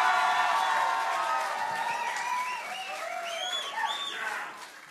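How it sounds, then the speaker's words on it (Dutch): Audience applause and cheering after a singer is introduced at the Eindhoven Rock City 2012 rock concert, a dense, steady roar of clapping with a few whistles that fades slightly toward the end. "Applaus!"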